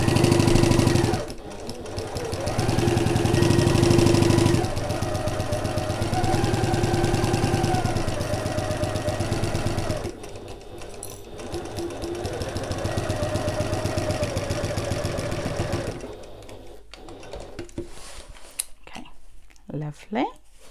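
A domestic sewing machine runs in several bursts, back stitching and then sewing up the side seam of a simple unlined sack bag, with short pauses between runs and someone talking over the machine.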